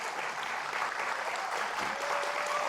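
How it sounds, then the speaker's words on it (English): Applause for Mr. Dinesh D.C. at a grand inauguration event, continuous clapping from an audience heard at a moderate distance, steady throughout with a faint tonal hum beneath. "please give a round of applause for Mr."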